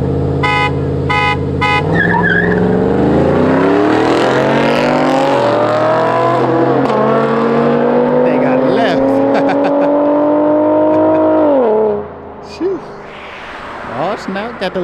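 A V6 Camaro lined up against a truck in a street race accelerates hard, its engine note climbing and straining loudly through the gears for about ten seconds before cutting off abruptly into quieter background noise.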